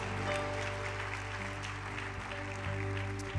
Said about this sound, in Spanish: La Biblia merece un aplauso.